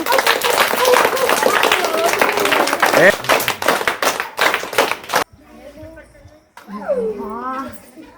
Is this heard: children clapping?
yes